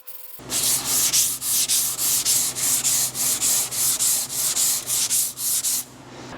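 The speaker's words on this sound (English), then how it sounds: "I'm going to go over it very lightly with 80 grit on a block, then switch to 120, and then work down to 220 and 320." Block sanding a car fender with 80 grit sandpaper, about a dozen even back-and-forth rasping strokes, close and loud, alone with no voices.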